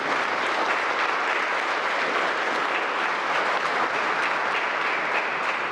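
Sustained applause from a church congregation, a dense steady wash of clapping hands filling the whole stretch at even loudness with no talk over it.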